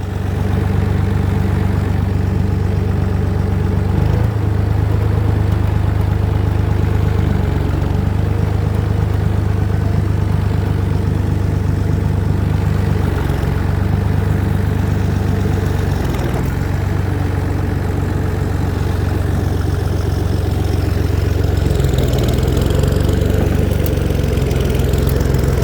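A tractor engine drones loudly and continuously as it labours while driving, a steady low, throbbing mechanical rumble with slight shifts in pitch and no voices.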